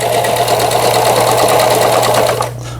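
A Janome 15s household sewing machine runs steadily through an overlock stitch, a close, loud continuous motor whir with rapid needle chatter that stops abruptly near the end.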